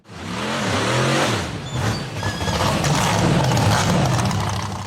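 An off-road buggy's engine climbs a steep forest rock face, revving hard and loud with wavering pitch and sharp squeals from the tires, and the engine note rises again after a brief dip.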